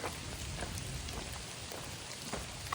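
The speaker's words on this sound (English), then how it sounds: "It's starting to rain and come down" Steady rain falls outdoors with a constant hiss and scattered close drops ticking on a surface.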